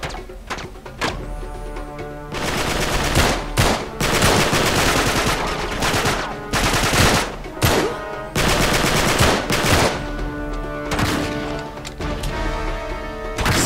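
Dense video game gunfire from Uncharted 3: Drake's Deception, with loud automatic bursts and single shots that repeat in clusters almost without a break.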